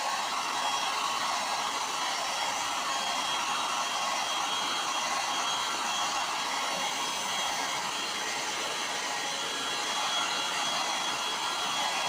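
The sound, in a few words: heat gun heating plastic radiator top tank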